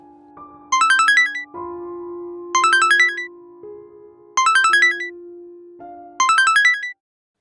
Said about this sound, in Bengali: খানিক বাদেই মোবাইলটা বেজে উঠল।